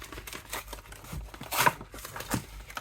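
A Pokémon card pack is torn open by hand in a few sharp ripping and crinkling bursts of foil wrapper, close and fairly quiet, with short pauses between pulls.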